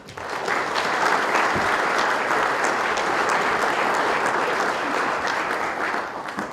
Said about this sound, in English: So please, Everybody, give yourselves a round of applause.